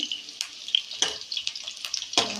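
Potatoes frying in hot oil in a wok, a steady close sizzle with occasional sharper pops and spatters, no talk.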